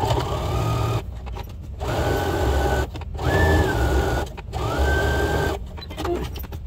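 A sewing machine topstitches a duffle bag in several steady whirring runs of about a second each, separated by brief pauses and a few clicks, loud and close with no talk.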